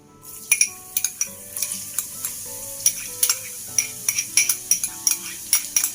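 Onions and garlic stir-fry in hot oil for fried flat noodles: a soft sizzle under rapid, rhythmic metallic clinks and scrapes of a spatula against the pan, close and continuous.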